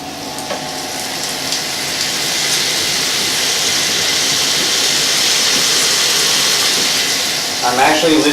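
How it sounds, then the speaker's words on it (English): Shallots sizzle steadily in a hot pan as they come up to temperature while cooking a white wine cream sauce, a broad continuous frying hiss building slightly and holding loud, with a brief clatter near the end. "I'm actually listening to the sound of the shallots as they come up to temperature."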